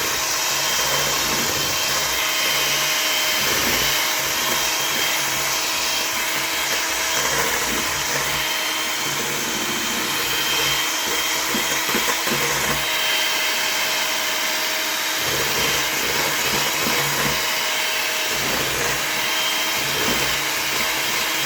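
An electric mixer whips a meringue mixture for a lemon meringue pie until thick and foamy, a steady loud motor whir running without pause and rising and falling slightly as the beaters work.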